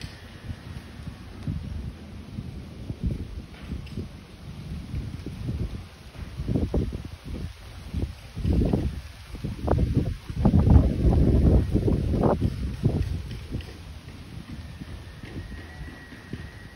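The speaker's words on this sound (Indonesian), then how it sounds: "Ini benar angin badai, tapi nggak apa-apa kerangka segitu kena angin besar ya." Strong storm wind buffets the microphone outdoors while a kite is flown, heavy rumbling gusts that swell and peak midway before easing off into a steady roar.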